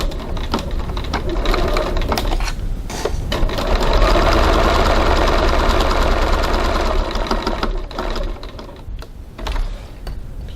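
A sewing machine stitches a seam on a bag at a 2.4 stitch length, running in a steady, continuous whir with a couple of short pauses and restarts, close and clear with no talking.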